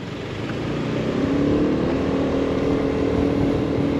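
Road traffic in a Russian-populated district, a continuous engine drone from passing vehicles that swells in the first second and then holds steady and moderately loud, with no talk over it.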